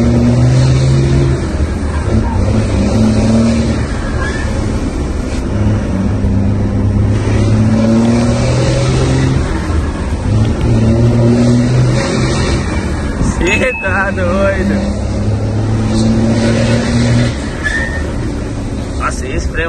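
A loaded truck engine hauling stacked crates on a tow truck, a loud steady drone with pitch rising and falling as the revs shift, heard close up with no pause.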